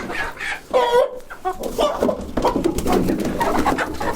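Chickens cluck and squawk nearby in a busy, irregular jumble, with some fluttering and commotion and no clear talking.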